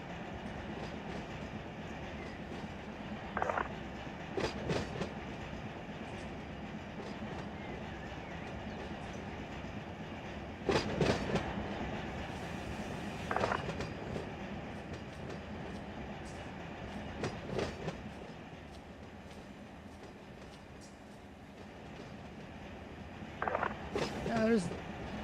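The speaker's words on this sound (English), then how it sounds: "We have a UP train coming towards us." A Union Pacific freight train rolls past in the Run 8 train simulator game, a steady rumbling with clanking and clickety-clack wheel beats that swell at intervals. A person talks over the train throughout.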